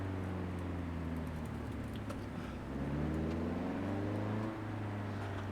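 Car engine in the Assetto Corsa racing game droning and revving steadily at close range, pitch rising and falling with a slight surge near the middle and a drop toward the end, the transmission damaged, with no talk over it.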